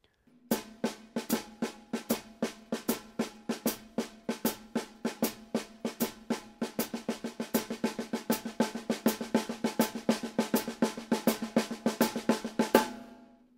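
Snare drum roll built from quintuplets, accenting notes one, three and five of each group, played in a steady repeating pattern at moderate tempo, close and alone for several seconds.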